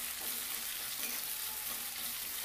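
Ginger garlic paste frying in hot oil for a brinjal and potato curry, a steady close hiss and sizzle that holds evenly throughout with no talking.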